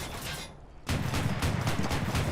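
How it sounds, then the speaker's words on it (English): Rapid 40mm cannon rounds glancing off an armoured car in the War Thunder tank game, Autoblinda 41 involved: brief quiet, then a sudden loud, dense barrage of rapid, closely spaced impacts running to the end. "We bounced 3 or 4 shots from a 40mm."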